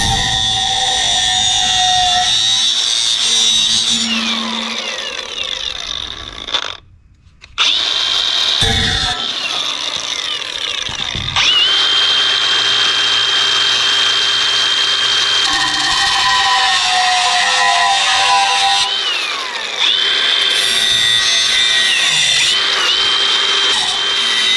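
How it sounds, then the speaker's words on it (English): An angle grinder cuts through a section of garage door in a loud, close, sustained high whine that dips briefly mid-cut with a short pause, then resumes steadily, with no talk. "And see if we can get the grinder to grind that area."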